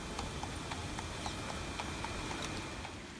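Horse-drawn carriage hooves clip-clop on the paving of Plaza de España in Seville, a steady, fairly distant patter of light taps over a broad outdoor hum, with no talking.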